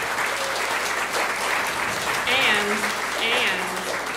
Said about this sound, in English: Please, everyone, clap for these two wonderful ladies.